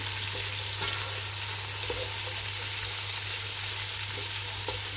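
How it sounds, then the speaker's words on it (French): Food sizzles and fries steadily in a pan, a continuous close crackle with a few faint stirring knocks and a low steady hum underneath. "Je vais laisser frire un tout petit peu"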